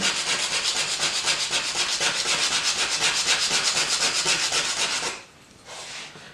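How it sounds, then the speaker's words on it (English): A trim knife is rubbed rapidly back and forth on a sharpening surface, giving a close, steady rasping rhythm of many quick strokes. The strokes break off, followed by a short final scrape. "I have not sharpened this knife for quite some time, so it needs a pretty decent amount of work."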